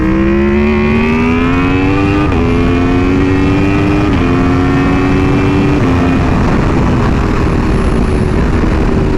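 A motorcycle engine drones loud and steady on a bumpy road, its pitch climbing under hard acceleration with a few brief dips between rising pulls, then fading into wind noise.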